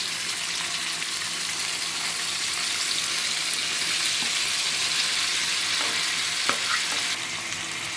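Mutton liver frying in coconut oil in a pan, an even, close hissing sizzle that stays constant throughout, broken by a couple of faint utensil ticks, no voices.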